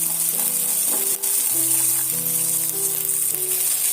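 Green peas frying in a pan for aloo matar gosht, a loud steady sizzle with faint stirring, and no one speaking.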